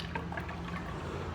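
Water pours into a kombucha jar, a close, continuous gurgling fill with a slight trickle, steady throughout and with no talking.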